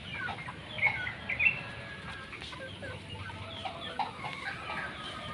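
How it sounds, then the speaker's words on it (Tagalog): A gamefowl broodcock rooster of pumpkin hatch on a game farm, giving a few short nearby clucks and squawks over quiet pen surroundings, with faint chirping birds in the background. "Yan si broodcock na pumpkin hatch."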